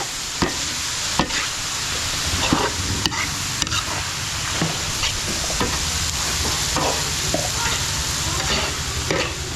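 Ground chicken sautéing in a pan with a steady broadband sizzle, punctuated by repeated sharp scrapes and knocks of a utensil stirring the meat, close and fairly loud throughout.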